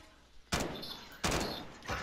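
Rifle fire in Modern Warfare 2019, three loud, sharp gunshot bursts at roughly even intervals, each ringing out and decaying over a faint game-ambience background.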